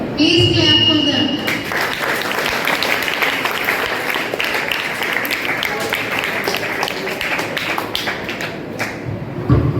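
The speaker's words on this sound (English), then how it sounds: "Please clap for them." Audience applause for consolation prize winners at a school paper reading competition, a loud steady clatter of many hands lasting nearly ten seconds in a hall, with crowd murmur and talk mixed in.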